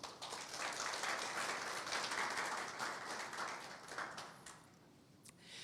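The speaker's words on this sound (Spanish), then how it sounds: "Dele un aplauso a Jesucristo." A church congregation at a Spanish-language service applauds steadily for about five seconds, a dense, even wash of many hands clapping that thins out toward the end.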